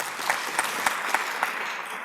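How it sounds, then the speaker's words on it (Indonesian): An audience at a motivational seminar claps together, a steady dense patter of many hands with a few sharper individual claps standing out at regular moments across the short burst. "Tepuk tangan yang paling untuk Anda semua."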